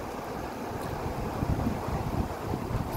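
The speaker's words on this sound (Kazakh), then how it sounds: "Мінекей Өгем тауының басындағы қар еріп, Өгем өзені болып ағып жатыр." Fast, icy meltwater river rushing down from the snows of Ogem mountain, a steady broadband roar and wash of turbulent water, close and loud throughout with gusty wind buffeting the microphone.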